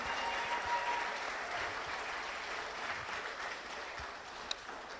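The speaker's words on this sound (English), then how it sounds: "let's give a big Trump rally round of applause for Fred and Camille and Lynn's Heritage Angus team" Broad, sustained applause from a crowd at a cattle sale honoring the Heritage Angus team, dense clapping that slowly fades over several seconds.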